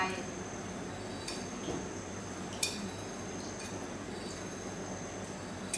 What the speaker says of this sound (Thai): สิบวิชาเราก็ตักข้าวที่เราผัดนะคะ ใส่ลงไป